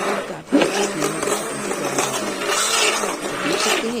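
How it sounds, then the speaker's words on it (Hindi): A hand blender grinds ice cream batter in a home kitchen, a loud, steady whirring drone with slight wavering in pitch that runs the whole time without speech. "मैं हैंड ब्लेंडर से ही इसको ग्राइंड कर रही हूँ।"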